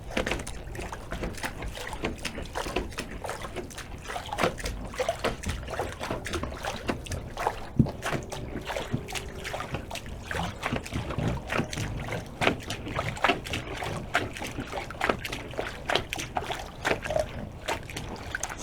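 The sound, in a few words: wooden brush scrubbing boat waterline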